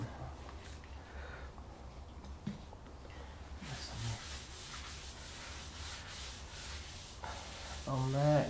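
Colour is rubbed into wood by hand with a cloth, giving soft, continuous scrubbing and brushing strokes at close range, growing busier midway before a brief clatter at the end.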